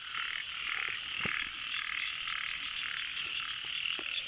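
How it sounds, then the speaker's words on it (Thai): Frogs croak steadily in a rain-soaked Thai rice field at night, a dense continuous chorus of overlapping calls close by with occasional louder individual croaks cutting through. "ฝนตกหัวกระเซ้าครับ ออกมาไต่กบ"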